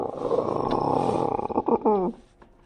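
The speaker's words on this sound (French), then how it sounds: "il entendit un lion rugir dans l'obscurité" Lion roaring in the dark: a loud, rumbling roar carries for about two seconds, ending in a few throaty, grunting pulses before fading out, with no voices over it.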